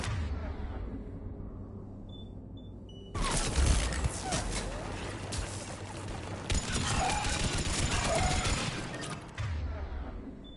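A Mass Effect 3 shootout erupts after a quiet stretch, with loud, dense bursts of gunfire and impacts filling most of the clip, sometimes under faint speech.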